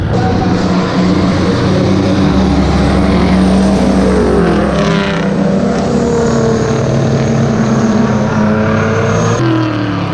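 Cars racing figure-eight laps on a dirt track at night, a loud, dense wash of engines droning and swelling continuously, with no clear speech.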